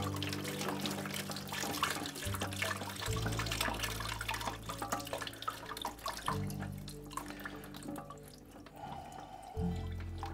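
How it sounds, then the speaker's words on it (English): Water pours steadily out of an old toilet tank valve into a bucket set underneath, a continuous close splashing and gurgling stream with drips, no talk over it. "when I've got it loose and I lift that up, the water comes pouring out of there"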